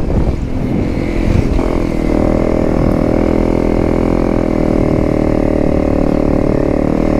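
A Honda CRF 300 Rally motorcycle rides beside a vineyard, its single-cylinder engine loud and close, holding an even, steady drone after a brief rise in revs at the start, with no voices.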